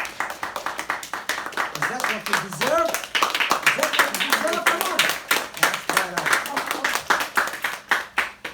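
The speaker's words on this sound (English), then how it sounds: "Give yourselves a hand of applause." An audience claps for themselves at a talk, dense scattered clapping running throughout while someone speaks loudly over it.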